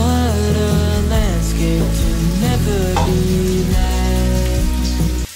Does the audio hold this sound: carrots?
yes